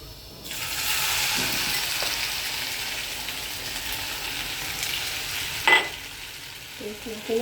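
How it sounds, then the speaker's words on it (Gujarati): Ginger, chili and garlic paste drops into hot oil with cumin seeds for chole, setting off a steady, loud sizzle that runs on without talk, with a brief clatter of stirring near the end. "ગરમ થઈ જાય ને જીરું એટલે આ પેસ્ટ નાખી દેવાની, આદુ મરચાં લસણની"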